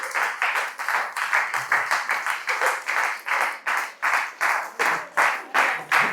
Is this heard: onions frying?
no